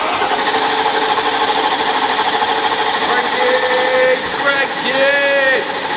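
A Mercedes-AMG GT engine is cranked over to build oil pressure, a steady mechanical whirring chatter running throughout, close and fairly loud, with a brief whine near the end.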